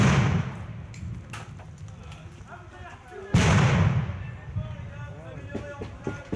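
Shots ring out during a police clash at a ZAD protest site, sharp bangs scattered over several seconds with one heavy report midway, while people shout and talk throughout.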